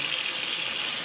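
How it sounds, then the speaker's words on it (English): Very cold water pours loudly and steadily into a bowl of freshly churned unwashed butter, a close, continuous rushing splash with no voices. "Put some very cold water in there"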